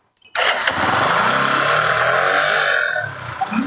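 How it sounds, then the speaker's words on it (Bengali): A motorcycle running on a homemade substitute for octane and petrol fires up abruptly after a brief cranking stutter, then runs with a loud, steady close-up engine roar before the revs ease down near the end. "বাইকটা কিন্তু স্টার্ট হয়ে গেছে"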